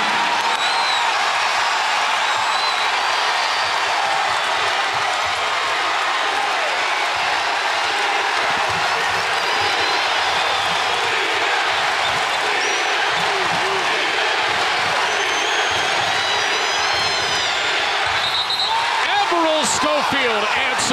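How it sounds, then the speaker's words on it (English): A packed Memphis arena at an NCAA basketball game between Tennessee and Memphis roars in a steady, loud, frenzied wall of cheering, with an announcer talking over it throughout. "A frenzied crowd here in Memphis, the likes of which they haven't seen in a long time."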